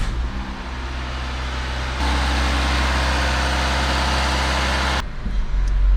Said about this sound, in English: the last step while the car's still up on axle stands is just to start the car and just check for any unusual noises from the power steering system